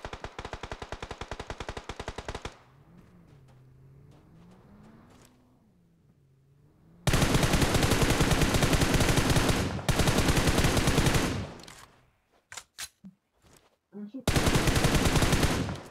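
Bursts of automatic machine gun fire in PUBG Mobile on the Miramar desert map, rapid loud rattling volleys separated by a quieter lull with a vehicle engine and a few scattered single shots.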